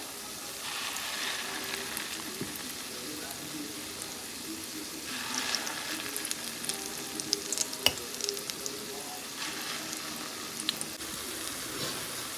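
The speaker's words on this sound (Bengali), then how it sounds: "কড়াই নড়ছে এখানে আরও কয়েকটা বড়া দেওয়া যাবে দেওয়ার সঙ্গে সঙ্গে কি সুন্দর ফুলে উঠলো দেখুন" Fritters (bora) frying in oil in a wok, a continuous close crackling sizzle with bursts of louder popping as batter is added, and a few light clinks throughout, no talking.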